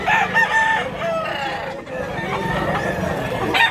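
Roosters crow at a busy chicken market in Mantalungon, Cebu, several overlapping calls, some near and some farther off, over a crowded background of clucking fowl and faint talk.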